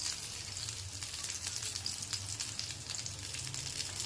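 Pumpkin flower fritters fry in hot oil with a steady, soft sizzle and crackle, close and continuous, with no voices.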